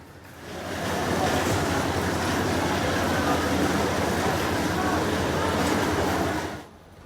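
The Parjatak Express rumbles at Cox's Bazar railway station, a steady, broad, loud roar that swells in over the first second, holds evenly, then fades near the end.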